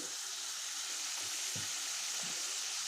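Chicken being stirred and fried in a cooked-down masala gives a steady, even hiss of frying, with a few soft low thumps of the stirring spoon partway through; no one talks.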